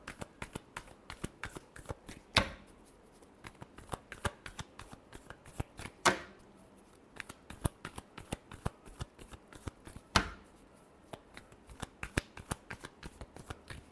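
Tarot deck shuffled by hand in a steady run of crisp, close card clicks and flutters, with three louder snaps standing out along the way, no talking.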